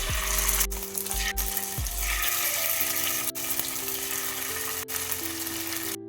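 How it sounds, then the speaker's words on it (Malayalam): Marinated fish pieces for chilli fish deep-fry in hot coconut oil with a continuous sizzling hiss. Steady tonal background music plays over it, and a few sharp clicks sound now and then. "ഫിഷെല്ലാം ഇട്ട് കൊടുത്തിട്ടുണ്ട് നല്ല ഡീപ് ഫ്രൈ ചെയ്തെടുക്കാം"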